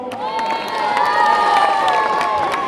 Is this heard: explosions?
no